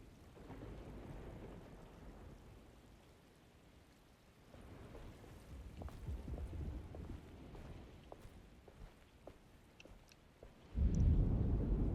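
A thunderstorm rumbles in Alone in the Dark, with steady rain and low distant thunder, faint and soft throughout, ending in a sudden louder crash of thunder.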